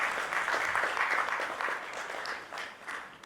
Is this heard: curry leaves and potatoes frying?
no